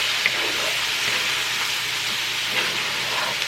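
Food fries in a pan with a continuous, fairly loud hiss and crackle that stays even throughout.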